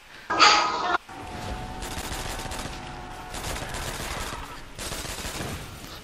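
Gunfire in Call of Duty zombies mode on the Verrückt map: a loud sharp burst of shots at the start, then a run of rapid repeated firing with game effects in the background.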